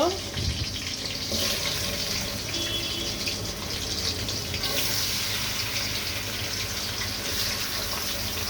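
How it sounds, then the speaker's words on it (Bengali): Roast chicken pieces frying in a pan, a steady, faint sizzle and crackle with a hissing wash throughout, no clear voices over it. "এইভাবে আমি এক এক করে সব রোস্ট পিসগুলো ভেজে নিব"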